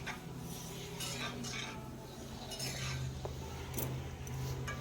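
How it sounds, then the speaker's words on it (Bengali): Vegetables (bitter gourd, potato, pumpkin and eggplant) being stirred in a cooking pan over a low flame, cooked without water: faint, intermittent scraping and light clinks of a spatula against metal over a low steady hum, with no voices. "খুব ভালো করে মিশিয়ে নেব।"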